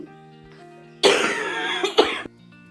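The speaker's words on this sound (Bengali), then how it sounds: "কথা বলতে গেলেই কাশি হচ্ছে" A person coughs in a loud, harsh burst of about a second with a couple of sharp peaks near the end, set against quiet indoor background hum, with no talking.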